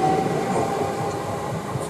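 A Class 377 electric train accelerates out of Imperial Wharf station, a steady loud rumble and whine of motors and wheels on rail held close throughout a short burst, with no voices.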